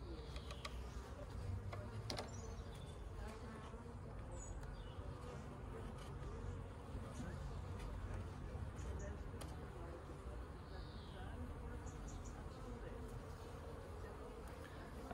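Honeybees buzz in a continuous low hum from an open hive as brood frames are pulled, with occasional faint ticks and a person speaking German over the swarm.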